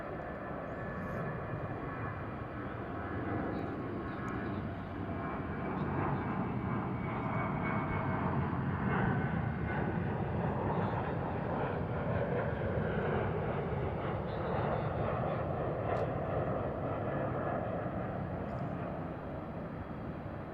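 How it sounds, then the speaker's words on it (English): A Boeing 737-800 jet departs DFW International Airport, its broad engine roar steady and loud throughout, with a continuous rumbling wash and no voices. "Checking out this 737-800 departing."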